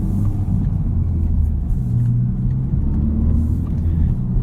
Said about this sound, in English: Let's go for a drive and get some speed under us